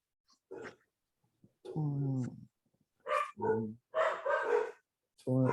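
Pet dogs at home bark loudly and close by in several separate bursts, with some yipping and gaps of silence between them.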